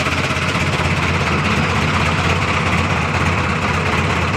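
A fishing boat engine idles at sea on a cold night, a loud, steady low rumble with constant vibration that fills the whole stretch without pause.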